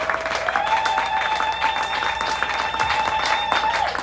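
A church congregation at a Pentecost service applauds and cheers continuously, dense clapping filling the space with a steady tone ringing above it.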